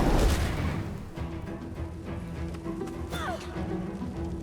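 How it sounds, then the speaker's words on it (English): A fire spell bursts in Divinity: Original Sin 2 with a loud, booming blast at the start, then a crackling, rumbling tail and a brief rising whoosh, with no talking. "let's just cover that with more fire"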